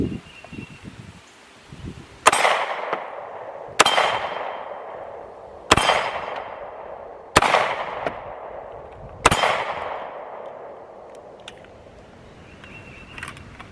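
A pistol fired with test magazines gives five sharp, loud shots spaced about two seconds apart outdoors, each ringing off into a short echo, with quiet rustling between.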